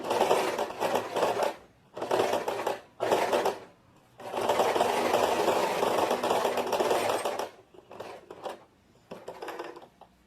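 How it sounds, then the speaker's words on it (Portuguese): A sewing machine runs in bursts, short stitching runs then one long steady run, stitching a 1 cm seam on tailored-style trousers with backstitching at start and end, loud and close. "Costura com 1 centímetro de distância, retrocesso, início e fim."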